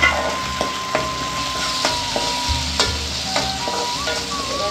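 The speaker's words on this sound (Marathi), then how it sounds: "टोमॅटो शिजेपर्यंत थोडा परतून घेऊ." Tomatoes sautéing in a pan, a continuous close sizzle punctuated by regular clacks and scrapes of a spatula stirring them.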